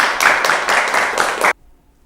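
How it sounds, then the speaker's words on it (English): Audience applause at a children's poetry anniversary show, a burst of dense clapping lasting about a second and a half that cuts off abruptly into near silence. "Let's give him another round of applause."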